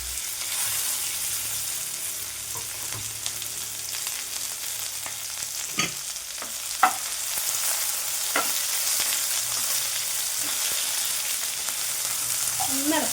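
Onion and potato fry in a pan, giving a continuous close sizzle with scattered crackles and occasional stirring taps.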